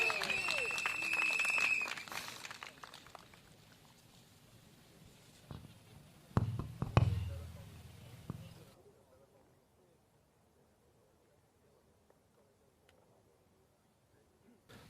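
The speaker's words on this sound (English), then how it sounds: "Another round of applause for her, please." Audience applause at a People's Power Party political rally in Yio Chu Kang Stadium, a short burst of clapping early on, then a brief louder surge before fading to near silence, with speech around it.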